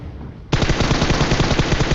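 A DP-28 machine gun fires in PUBG: after half a second of quiet, a loud rapid burst of gunfire continues without pause to the end.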